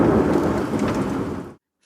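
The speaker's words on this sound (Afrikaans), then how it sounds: "Hallo donderweer" Thunder with rain: a loud, deep rolling rumble over a broad wash of rainfall that cuts off abruptly into silence.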